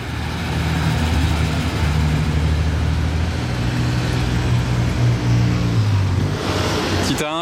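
A classic Ferrari Daytona drives past on the streets of Monaco with a loud, steady engine drone that holds for several seconds. Its pitch drops near the end as traffic rumbles behind it and people talk nearby.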